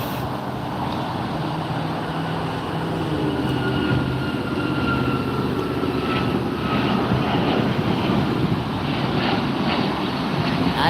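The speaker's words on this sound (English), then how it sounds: "We have an Alaska Airlines taking off." An Alaska Airlines airliner takes off at LAX, its engines a loud, steady roar with broadband rumble that holds throughout without any talking.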